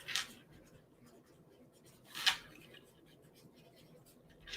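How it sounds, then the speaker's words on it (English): Pen or pencil writing notes by hand, heard as two brief scratchy strokes a couple of seconds apart, faint and close against quiet room tone. "let me write this down"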